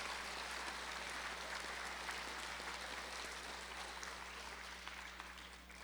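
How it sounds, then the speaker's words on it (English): A large audience at a middle school DARE graduation for about 159 students applauds, a steady, dense wash of clapping that sounds distant and faint, with no voices on top. "Let's give them one more big round of applause"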